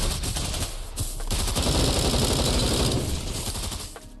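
Rapid automatic gunfire from the mobile multiplayer shooter game Bullet Force, loud and continuous bursts of shots running throughout.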